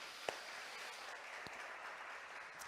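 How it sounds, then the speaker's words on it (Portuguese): Faint, distant steady applause from a church congregation, a continuous wash of clapping with a couple of sharper claps standing out. "Vamos dar uma salva de palmas para Deus pela vida do Cícero."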